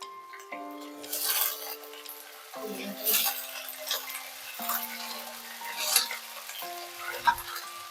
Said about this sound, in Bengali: কালো জিরিটা ভাজা হয়ে গেলে শিমগুলো সব দিয়ে দেবো